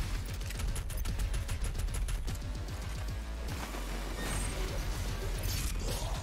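Rapid gunfire from DOOM Eternal blasts in dense, repeated bursts, loud and continuous, with mechanical clanks and crashing impacts layered through the combat.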